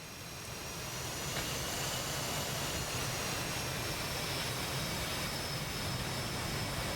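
Steady jet engine roar from F-18 and F-16 fighter jets in a combat flight video game, a continuous broadband rush that swells slightly in the first second and then holds level and fairly quiet.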